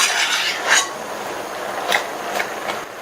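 Wilting spinach greens are stirred in an open cooking pan, giving soft scraping and a few light clinks of a utensil against the pan at a close, moderate level.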